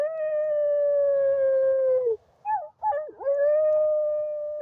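A person imitates a dog's howl, holding a long, steady, clear wail, breaking into a few short yips, then returning to a sustained howl that fades out; no other sounds around it.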